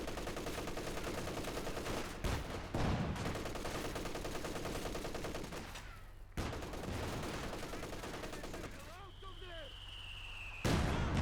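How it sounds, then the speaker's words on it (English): Mortar shells land amid a continuous Company of Heroes 2 battle, with booming impacts around 2.5 s, 6.3 s and 10.8 s cutting through steady gunfire and combat noise, and a voice talking over the din. "Good mortar hit there, force him back."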